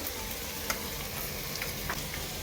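Sliced onions deep-frying in oil for biryani birista give a dense, steady sizzle with faint crackles, heard close and continuous.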